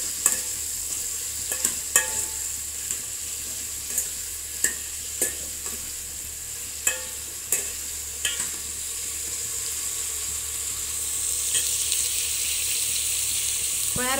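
A spoon repeatedly scrapes and knocks against a pan in an irregular rhythm over a soft, continuous sizzle of four tomatoes frying, close up.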